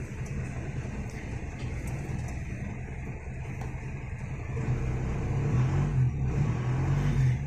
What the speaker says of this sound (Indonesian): Terus sekarang kita nyalakan untuk mesinnya. Mesin dari Isuzu Panther.